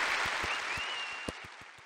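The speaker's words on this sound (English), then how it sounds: "I clap along." Crowd applause from a romance game show scene in the OMORI video game, a steady wash of clapping with a faint whistle-like tone running through it and a few sharper, louder claps near the end.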